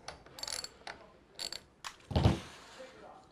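A wrench loosens the outboard clutch on a chainsaw with a few short ratcheting clicks and metallic knocks, then a louder low clunk as it breaks free, heard up close and fairly quiet.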